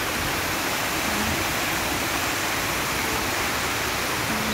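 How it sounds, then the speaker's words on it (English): A man-made waterfall at Lohas Park in Hong Kong roars as a dense, unbroken rush of falling water, loud and steady from start to finish, with no talking. "It's a waterfalls. Man-made waterfalls."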